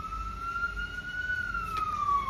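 An emergency vehicle siren wails outside in a single long, slowly rising and falling tone, faint and distant over a low background rumble.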